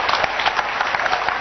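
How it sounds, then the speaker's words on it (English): A church congregation claps together in a dense, steady patter of many hands, loud and continuous for the whole moment. "clap for Jesus Christ"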